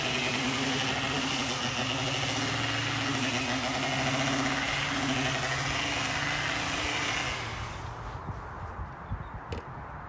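A power drill with a scrub brush whirs loudly and steadily with a scrubbing roughness against a car floor mat for several seconds, then winds down to scattered light brushing sounds.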